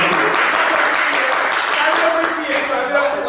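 Clapping from a live audience at a podcast recording, a dense, fairly loud patter that carries through the whole stretch with voices talking over it.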